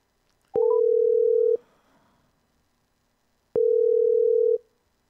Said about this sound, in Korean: 한번 전화드려 봅니다